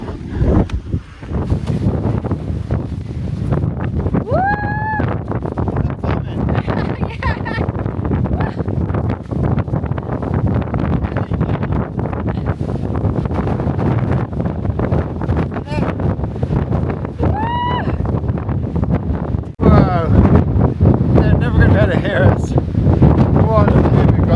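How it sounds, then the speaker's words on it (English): Strong wind on a volcano summit in El Salvador roars and buffets the microphone continuously, with people talking loudly over the gusts. "So windy."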